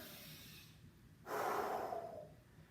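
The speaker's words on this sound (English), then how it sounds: "then I'm going to take the deep breaths, breathing from the diaphragm" One deep diaphragm breath, a quiet inhale building into a longer, louder exhale close to the mic, with no speech.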